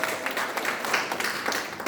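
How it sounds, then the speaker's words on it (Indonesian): A church congregation applauds at a GBI Bethany service, a dense, steady wash of clapping from many hands filling the room at moderate loudness, with faint voices mixed in. "Tepuk tangan buat Tuhan Yesus."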